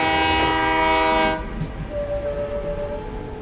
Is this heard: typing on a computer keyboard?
no